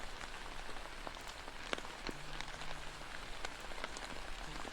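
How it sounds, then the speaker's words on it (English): Steady rain patters on a surface, soft and faint, with scattered individual drops ticking through the hiss. "Yeah, you can hear the rain."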